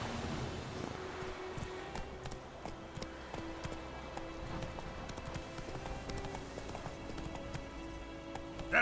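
Horse galloping in The Witcher 3, hooves clip-clopping in a steady fast rhythm throughout, layered over game music and ambience, with no talk.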